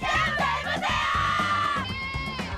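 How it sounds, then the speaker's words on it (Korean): Students gathered outside college entrance exam sites cheer and chant loudly in unison, a crowd of young voices shouting rhythmic encouragement up close. "각 고사장은 응원 나온 선후배들의 함성 소리로"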